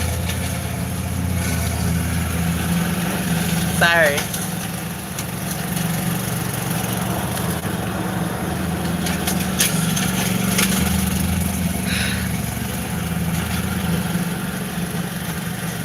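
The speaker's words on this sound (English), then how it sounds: "here come that loud mower." A loud lawn mower runs steadily outside as a continuous droning engine that sits under the whole stretch, with a brief spoken word over it.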